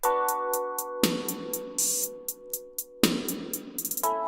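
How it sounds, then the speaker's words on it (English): A thin, narrow-band music loop with a drum beat and bass line sounds tinny and boxy, as if heard through a telephone receiver, stopping and restarting. "phone version. So it's going to sound like a phone filter."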